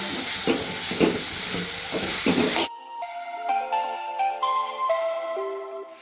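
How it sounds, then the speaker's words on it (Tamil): Onion and tomato sizzling in a pan with rhythmic scraping strokes of a spatula for a few seconds, then melodic music takes over. "இதை நல்லா வதக்கிக்கணும்."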